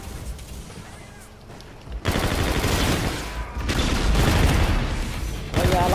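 Sustained rapid-fire gunfire from an automatic weapon in a first-person shooter game, dense and loud, running in long bursts with brief gaps, under occasional speech.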